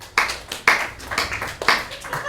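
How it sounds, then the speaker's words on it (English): Audience clapping at a comedy show, several sharp bursts of hand claps rising and falling in uneven waves, moderately close, with no clear cheering and no speech. "Can I have an amount of clapping and cheering that would express how happy you are?"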